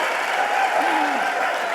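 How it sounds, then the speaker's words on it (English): A crowd claps steadily and loudly at a car unveiling event, a continuous wash of applause with a faint voice surfacing briefly in the middle. "Le ho fatto venire soprattutto per applaudire"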